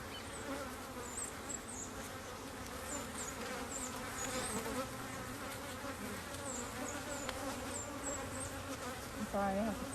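Honeybees in an open hive during an inspection for signs of a new queen, giving off a dense, steady buzz that stays close and unbroken throughout, with a few louder swells as individual bees pass near.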